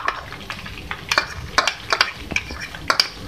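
Ginger garlic paste fries in a karahi, a steady sizzle broken by repeated scraping and clinking strokes of a spoon against the metal pan, close and moderately loud.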